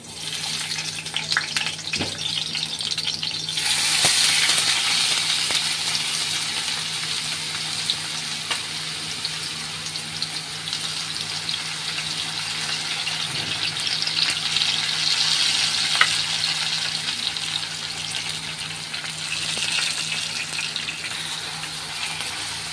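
Garlic, onion and bay leaf frying in hot oil for a chicken dish, a loud, steady, hissing sizzle that swells after a few seconds and carries on evenly with occasional stirring ticks, close up and without speech.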